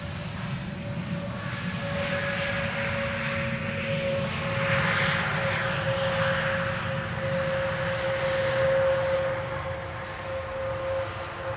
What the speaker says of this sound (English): This is JetBlue. JetBlue arriving from New York, JFK.